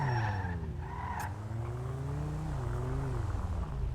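Tires squeal and skid over a droning engine as a video game race car slides and revs, the pitch sweeping up and down continuously.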